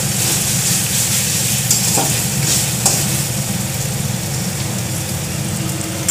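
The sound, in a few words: stirring chicken curry with tomato sauce in a pan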